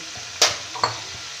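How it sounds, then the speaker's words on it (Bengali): Fried lentil dumplings (bori) go into a simmering bottle gourd curry, giving two short, fairly loud splashing thumps over a faint steady bubbling, with no talk. "এবার আমি ভেজে রাখা বড়িটা দিয়ে দিচ্ছি"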